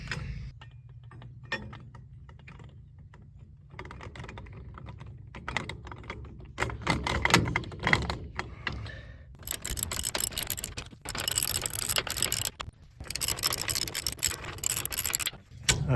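A wheel is bolted onto a 1975 Viscount caravan with a run of close clicks and ratcheting bursts, starting quietly and growing busier and louder toward the end.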